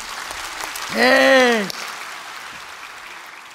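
An audience at a church service applauds in a moderate, continuous patter that runs the whole time, while a single voice calls out one short sound about a second in.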